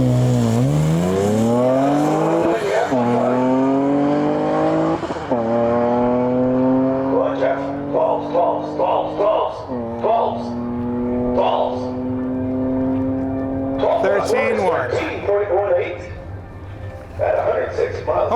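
An LS-powered Datsun drag car runs down the strip at a dragstrip season opener, its engine rising through repeated gear pulls with loud, sustained revving; crowd and commentary noise sit faintly beneath the engine.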